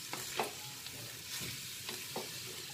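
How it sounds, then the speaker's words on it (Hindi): Noodles stirred in a pan while making chowmein momos: soft scraping and tossing strokes over a steady low sizzle, a few distinct stirs across a short stretch, heard alone. "अब इसमें हम नूडल्स को मिक्स करते हैं।"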